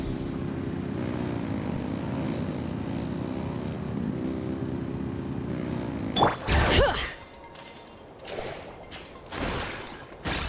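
A propeller aircraft engine in Genshin Impact roars at full throttle, a steady loud droning hum for several seconds that breaks into a sharp burst of whooshing and thumping mechanical noise, then several shorter surges.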